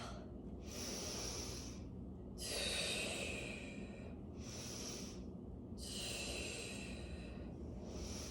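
Deep breaths during an exercise workout alternate in and out in a slow steady rhythm, each long airy exhale and inhale close and clear against a quiet background.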